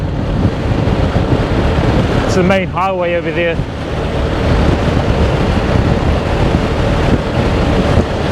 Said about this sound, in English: Kind of really windy as well, guys, and it's a cold wind